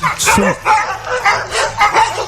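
A dog barking sound effect used as a quiz buzzer on a radio show, a loud, close series of about five yappy barks and yips in quick succession.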